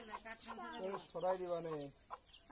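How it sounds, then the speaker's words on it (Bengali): Hens clucking up close in a series of short, throaty calls with brief pauses between them. "মুরগি আটকায় রাখছে"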